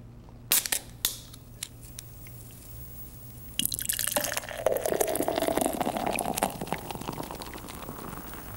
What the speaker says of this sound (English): It was a fresh, cold can of Evo energy drink with the top